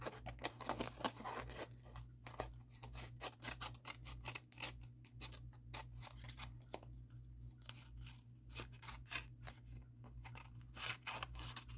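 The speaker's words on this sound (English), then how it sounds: "Let me cut the excess off." Scissors snip away excess material on a small sewing craft project, producing a close, quiet series of rapid crisp cuts and crunchy rustles over a low steady background hum.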